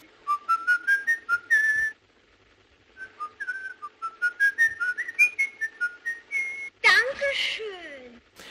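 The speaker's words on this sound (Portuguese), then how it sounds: "esse assobio dessa canção, que é uma canção do Peer Gynt, composta pelo Edward Grieg" A whistled melody from Grieg's Peer Gynt in Fritz Lang's film M, clear and tuneful, in two phrases separated by a short pause, ending with a brief burst of other noise.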